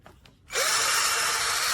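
A VIWKO 20V cordless drill switches on at its low speed setting and runs steadily with a bright, whirring hum, close by and alone, after a brief quiet moment.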